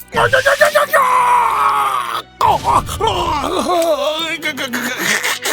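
A man screams and groans in pain during a brutal torture scene in which his shoulders are smashed. The cries are loud and drawn-out, with a brief break, and they rise and waver into strained wails.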